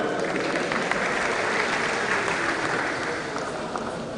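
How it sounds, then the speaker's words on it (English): A tech-event audience gives a round of applause for a participant, dense continuous clapping from many hands at steady loudness for the full stretch, with no speech on top. "Round of applause for him."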